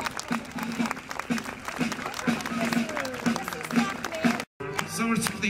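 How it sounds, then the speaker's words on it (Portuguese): Crowd applause for the Santa Clara march at a popular-saints street parade in Coimbra, Portugal, loud sustained clapping from many people with a rhythmic beat and voices mixed in, briefly cut off near the end. "Um aplauso grande para Santa Clara."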